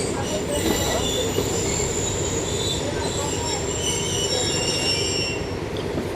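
The wheels of the 11UP Hazara Express give a steady, loud metallic squeal as the train brakes into a station at night, layered over a continuous rumble of the rail cars, with no voices.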